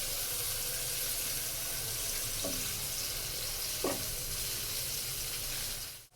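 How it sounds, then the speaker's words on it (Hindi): Green onions sautéing in a pan, a close, steady sizzle with a couple of brief clinks from stirring, continuing evenly before cutting off abruptly. "हल्का सा हमने प्याज को सौते करना है बस"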